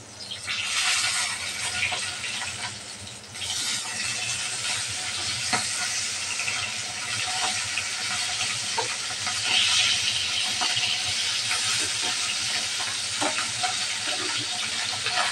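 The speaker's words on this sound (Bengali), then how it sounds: "মাছটা আমি হালকা ভাজা দিচ্ছি।" Pabda fish fry in hot oil in a pan, giving a steady close sizzle and hiss throughout with occasional scrapes of stirring.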